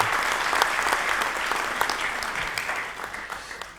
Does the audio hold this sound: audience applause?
yes